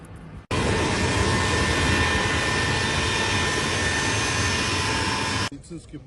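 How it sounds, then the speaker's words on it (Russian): Russian EMERCOM aircraft at Sukhum airport, its jet engines giving a loud, steady broadband roar that starts abruptly, holds for about five seconds, then cuts back to a quieter rumble. "Сухум имени Владислава Григорьевича Арзенова прибыл первый самолет МЧС России."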